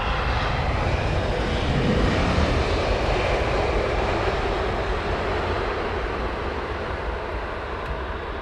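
A Delta airliner in BCRF livery, arriving from Minnesota, roars in to land on runway 27R at Heathrow, its steady broadband engine rumble holding loud and close throughout before easing slightly toward the end.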